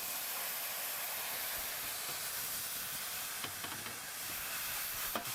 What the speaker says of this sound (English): we're going to deglaze it with some really nice red wine